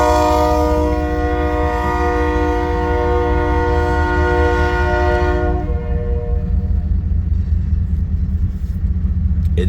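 An eastbound full freight drag after a crew change near Fremont, Nebraska, sounds a long, loud multi-tone horn over heavy rolling rumble, the horn cutting off partway while the wagons keep grinding past close by.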